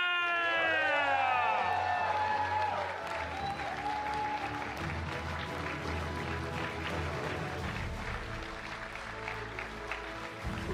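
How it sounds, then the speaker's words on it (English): Crowd at a Disney Lorcana World Championships watch party clapping and cheering for a player placing eighth, loud at first under a ringing, siren-like electronic tone, then a sustained roar of applause. "please show your appreciation, clap your hands, scream as loud as you can for Illy Vepierre"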